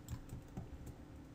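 A computer mouse double-clicks while notes are drawn into music production software for dubstep sound design, giving a few short, close, dry clicks over a faint background with no talking.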